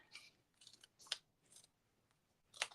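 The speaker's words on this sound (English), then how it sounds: "using my fussy cutting scissors, simply snip on the lines" Fussy cutting scissors snip through pattern paper in a paper-crafting session, giving four or five quiet, crisp cuts spaced irregularly, with the last one sharpest and closest.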